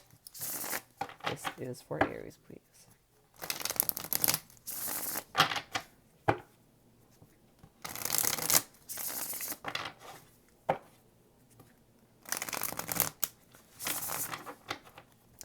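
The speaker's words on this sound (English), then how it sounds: "Two more shuffles." Tarot cards are shuffled in several quick riffling bursts, separated by pauses with soft speech in between.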